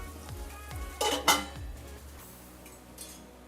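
Onions frying in a covered pan while egg cooks alongside for biryani, a quiet steady sizzle with a couple of sharp metallic clinks of utensils and a low hum underneath.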